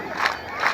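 Women in a crowd ululate to welcome the president at Lanet KMA, Kenya: two short, shrill trilling bursts rise over a steady murmur of the gathering.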